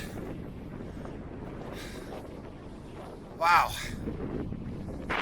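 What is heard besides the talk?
wind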